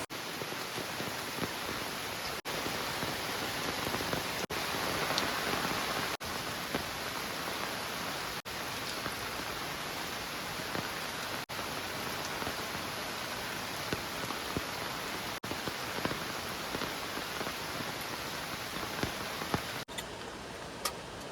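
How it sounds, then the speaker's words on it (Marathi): Heavy rain falls steadily at a night campsite as a dense, even wash of noise with scattered close drips and patters, no voices. "भरपूरच जोरात पाऊस चालू झाला"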